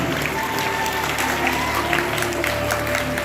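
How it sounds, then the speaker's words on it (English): Steady applause fills a school hall during an oath-taking ceremony, a dense, even wash of clapping from many people that runs throughout under a faint hum. "Give them a big round of applause."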